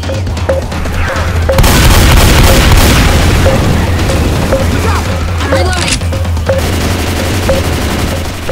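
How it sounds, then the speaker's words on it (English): Loud booming explosion and chaotic gunfire in Left 4 Dead 2, with a sustained blast rumble followed by rattling shots and crashes, while players talk over the action. "Grenade!"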